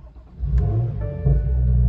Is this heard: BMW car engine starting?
yes